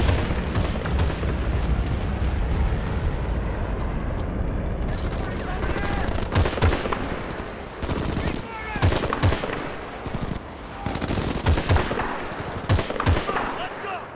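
Rapid automatic gunfire rattles through a Battlefield Bad Company 2 campaign battle, loud and dense, with bursts of shots stacking over constant combat noise and occasional heavier booms.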